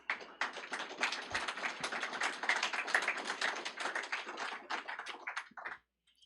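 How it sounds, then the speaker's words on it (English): A small crowd at a high school career and technical education signing day event gives scattered, crisp clapping that thins out toward the end and stops. "Give them a round of applause."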